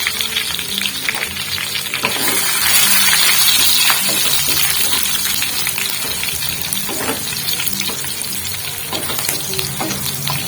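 Whole chilies and cumin seeds sizzle loudly in hot oil for a daal tadka, a steady close crackle and hiss with occasional stirring clinks throughout.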